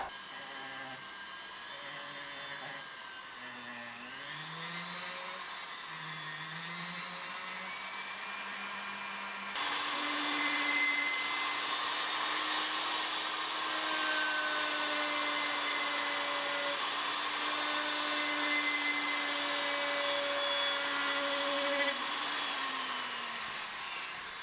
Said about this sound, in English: I'm going to try and tidy up these horrible little bits with the sandpaper.